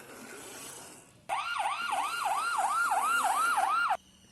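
An ambulance siren wails in a fast, repeating up-and-down sweep, fairly close and clear, starting abruptly after faint background hum and cutting off after a few seconds.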